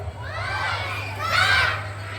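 Crowd of children shouting and cheering loudly at a nursery school karate demonstration, a burst of excited voices that swells toward the end.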